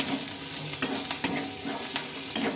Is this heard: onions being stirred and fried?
yes